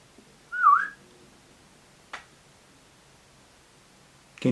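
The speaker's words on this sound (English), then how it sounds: "Okay, I'm going to whistle." A person gives a single short, clear whistle, a quick rising and falling tone near the start, followed by a sharp click and a knock in an otherwise quiet room inside an old house.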